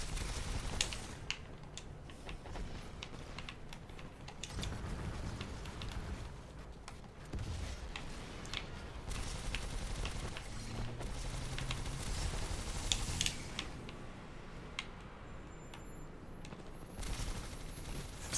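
Gunfire in the multiplayer shooter Titanfall 2, bursts of rapid shots and impacts over constant battle noise, moderately loud and sustained throughout.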